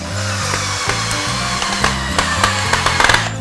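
Power driver sinking 2.5 inch pocket hole screws into wooden bed frame boards, several short whirring bursts in sequence with clicks and knocks of wood between them, close and clear.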